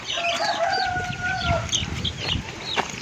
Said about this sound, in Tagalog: yan ang second batch natin na mga sisiw